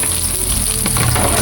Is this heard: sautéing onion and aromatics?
yes